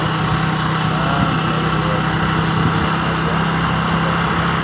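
A motorbike engine runs steadily while riding, giving a constant loud drone with a low hum and broad road and wind noise throughout, and no pauses.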